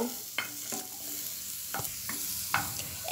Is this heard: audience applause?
no